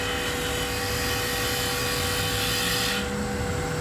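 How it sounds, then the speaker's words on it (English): Steady, loud rasping hiss of a gouge peeling wood from a finial spinning on a lathe, a continuous close cutting noise with constant motor whine that eases slightly near the end. "I can go toward the headstock here and peel away some wood."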